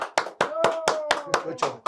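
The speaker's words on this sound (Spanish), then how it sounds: "Un aplauso, por favor." Eight or so distinct, close hand claps ring out in a loose, uneven rhythm, each a sharp crack, while a faint tone hums beneath at an event honoring Abelardo Quiñones González.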